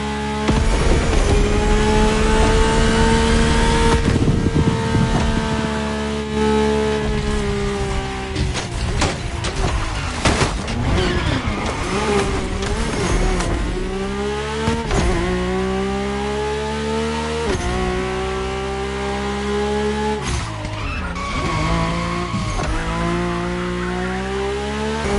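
Mercedes-AMG One hypercar driven in the racing game Motorfest, its engine revving loudly and continuously with rising and falling pitch as it shifts through gears, with occasional tire squeal, up close and alone.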